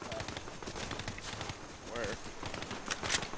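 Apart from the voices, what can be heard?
gunshots in Fortnite video game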